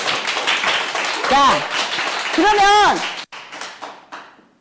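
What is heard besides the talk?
audience clapping at business presentation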